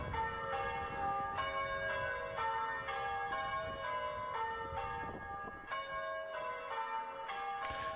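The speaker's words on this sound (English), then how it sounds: "they rang the church bells in celebration" Church bells peal continuously in overlapping, ringing tones, a steady stream of strikes sounding full and fairly close.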